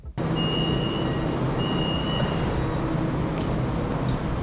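An MRT train on the Kajang Line in Kuala Lumpur, heard from inside as a steady, loud rumble with a faint high whine running throughout, and no talk.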